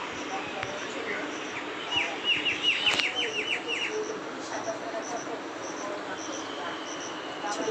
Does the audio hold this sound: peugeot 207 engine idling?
no